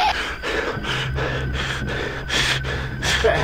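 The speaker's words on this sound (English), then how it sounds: "Bit of heavy breathing going on." Heavy, rhythmic breathing from the Five Nights at Freddy's horror game pulses in slow, repeated gasping breaths over a low steady hum.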